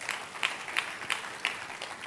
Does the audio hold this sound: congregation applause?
yes